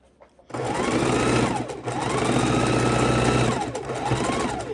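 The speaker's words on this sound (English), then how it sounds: "we just sewed right over the selvage" A sewing machine runs over the selvage of a fabric scrap for a quilt, a loud close whirring burst that starts after a short quiet lead-in and holds steady with slight speed dips.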